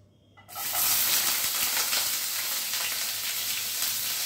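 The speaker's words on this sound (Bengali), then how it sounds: "এবার তেলের মধ্যে আমি পেঁয়াজ আর রসুনটা প্রথমে দিয়ে দেব।" Chopped garlic and onion dropped into hot oil, bursting into a loud, steady sizzle that continues evenly after a sudden start; no talking.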